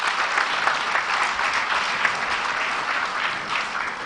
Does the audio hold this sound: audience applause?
yes